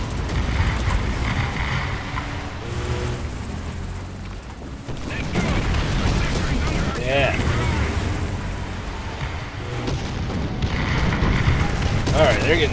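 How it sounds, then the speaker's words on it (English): Artillery fire in the War Thunder tank battle: heavy booms and rumbling blasts roll on throughout, loud and dense, with a voice talking over them at times. "Artillery, fire!"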